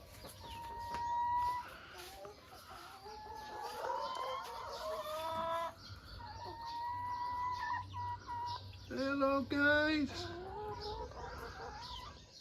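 Hens in a rural Thai village cluck and chatter continuously at close range, with occasional louder calls, while someone speaks briefly over them.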